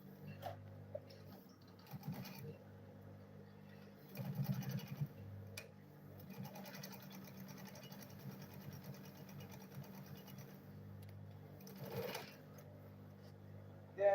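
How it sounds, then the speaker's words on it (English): A sewing machine runs steadily as it stitches a fabric lunch bag, a faint, continuous mechanical whir with small rises in pace and a few light clicks, heard alone without talk. "Then I will go ahead and sew it"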